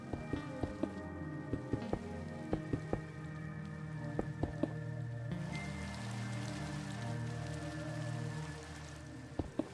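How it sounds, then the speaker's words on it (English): Soft, steady patter of a rain effect on a stream overlay, a continuous wash of drops with occasional sharper ticks, faint and low in level with no one talking. "I worked on adding a rain effect to my overlay."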